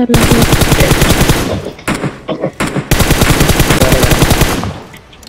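Rapid automatic M416 rifle fire in the battle game BGMI, loud and close, arriving in two long sustained bursts with a brief stuttering pause between them, and no talk.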